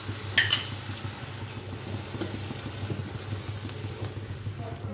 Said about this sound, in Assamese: মছলাখিনি ভুনি লওঁ কেঁচা গোন্ধটো যোৱাকৈ